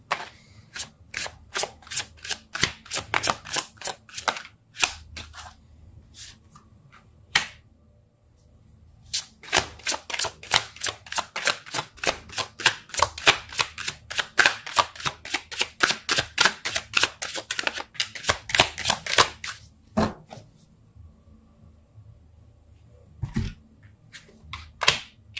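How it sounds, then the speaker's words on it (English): Tarot cards being shuffled by hand, with bursts of rapid crisp riffling clicks, a pause near the middle, then a longer dense run of flicking, close and fairly loud with no talking. "I just can't shuffle"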